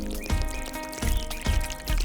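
Clean water poured into a portable camping laundry bag, a continuous pouring trickle with gurgling swells, close and alone under a faint steady hum.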